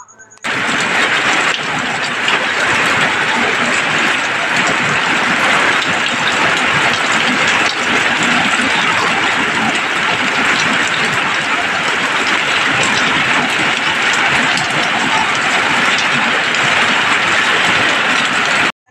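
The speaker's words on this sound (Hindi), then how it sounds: "इतनी तेज़ी से बारिश आ गई। आप लोगों को सुनाते हैं रियल आवाज़" Steady, dense roar of heavy rain pouring without a break in a village, loud and close, a continuous hiss that never lets up.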